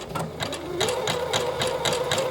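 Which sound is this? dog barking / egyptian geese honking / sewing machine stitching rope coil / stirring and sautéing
sewing machine stitching rope coil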